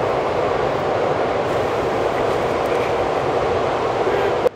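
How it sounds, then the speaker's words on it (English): A train rumbles past close by in Tokyo, heard from a rooftop, a steady loud roar of wheels and rail noise that cuts off abruptly at the end. "There goes the train."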